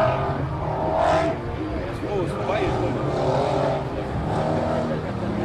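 All-wheel-drive race cars in an off-road final at Goldenstädt drone past at a distance, engines rising and falling in steady waves beneath nearby conversation.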